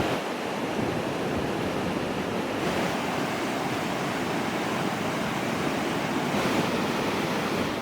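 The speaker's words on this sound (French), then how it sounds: "Et ben, la rivière, elle coule." A river flows in Georgia as a steady, broadband rush of water, close and constant, with no talk and a slight wind-like hiss over it.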